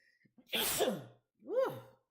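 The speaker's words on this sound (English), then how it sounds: "All right, I had to sneeze." A single close sneeze bursts out, followed by a short breathy vocal sigh.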